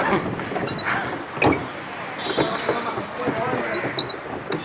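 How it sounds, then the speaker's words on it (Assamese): A bus rumbles through street traffic during a Navami puja outing, with low engine noise, hissing air and passing vehicles mixed under people talking. "বাছ"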